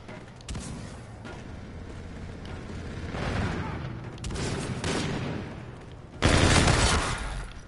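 Gunfire in the online shooter Call of Duty, dense bursts of shots and blasts rolling on continuously, growing louder in waves with a heavy surge near the end.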